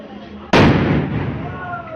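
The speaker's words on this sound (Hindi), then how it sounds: "श्री राम के जय घोष के साथ आतिशबाजी कर दूर दराज से दर्शन के लिए आए श्रद्धालुओं को आशीर्वाद दिया।" Fireworks go off at a Shri Ram celebration: a single sudden loud bang that fades into a long rumbling tail over about a second and a half, with faint ambient sound before it.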